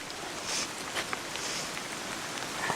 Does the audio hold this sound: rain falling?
yes